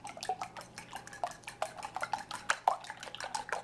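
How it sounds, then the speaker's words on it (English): Eggs being whisked with salt and pepper in a bowl, a quiet, rapid run of light clinking taps as the whisk strikes the bowl. "And then I'm going to whisk that through."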